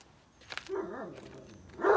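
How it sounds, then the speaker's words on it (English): A dog gives a couple of sharp barks and whimpering yips, then a louder bark at the end, close and distinct against a quiet background. "And then she heard the dog."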